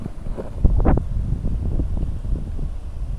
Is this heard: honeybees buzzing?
no